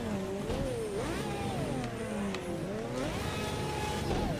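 A Pagani's engine in a dirt racing video game, Project Car, revs up and down through the gears, its pitch climbing, dropping at each shift and rising again, loud and continuous.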